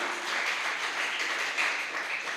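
Congregation applause during a church worship service, a steady broadband wash of clapping sustained through the whole stretch at moderate level with no voices over it.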